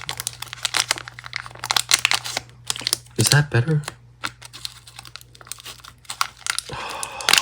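Scissors slice open the crinkly wrapper of a Riftbound Unleashed trading card booster pack, giving close, loud bursts of crackling and crumpling between short spoken remarks.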